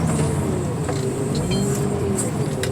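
A wheel loader engine runs with the cab door closed, a steady low diesel drone with faint tonal whine heard from inside, continuous and even throughout.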